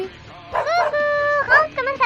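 A dog gives a few high yips and whimpering whines, loud and close, in short bursts with brief pauses between them.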